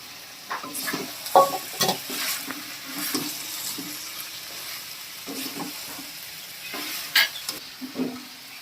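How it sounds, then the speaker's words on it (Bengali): Fried potatoes are stirred into chicken sizzling in a pan, with soft sizzling under intermittent scraping and clattering stirs, moderately close and fairly quiet, with no voices. "চিকেন কষানো হয়ে গেছে, এবারে দিয়ে দেবো ভেজে রাখা আলু"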